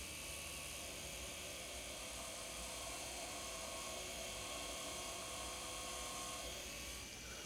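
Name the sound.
dental drill drilling pinhole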